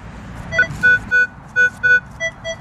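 Metal detector sounding a run of clean, high electronic beeps, about six short pulses in an uneven rhythm over low background noise, signalling a silver target.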